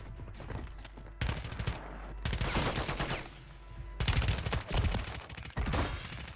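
Bursts of automatic gunfire from a first-person shooter video game, rapid volleys coming in several loud clusters separated by brief pauses, with a faint voice underneath.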